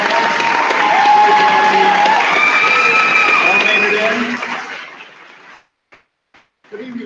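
Applause and crowd noise for graduating seniors at a 2018 charter school commencement ceremony, steady and full for several seconds with voices in the mix, then fading out and dropping to near silence before a brief return.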